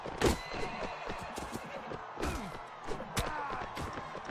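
In the Mount & Blade Warband video game, a horse struck in battle lets out a sharp whinny, followed by further clattering hits and hoof sounds amid the game's combat noise.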